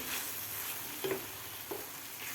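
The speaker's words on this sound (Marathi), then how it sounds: "यामध्ये आपल्याला फ्राय करून घेतलेलं पनीर घालायचं आहे यामध्ये आपल्याला व्यवस्थित हे मिक्स करायचं आहे" Fried paneer stirred into a cooked masala curry in a pan, a soft steady sizzle with a couple of quick scraping stir strokes, close and quiet with no talk.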